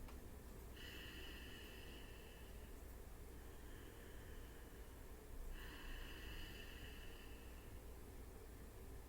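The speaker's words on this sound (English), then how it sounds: "A few of those nice Darth Vader breaths." Slow ujjayi yoga breathing, drawn through a constricted throat in a hissing, ocean-like rush, with two long breaths close to the mic over steady background hiss.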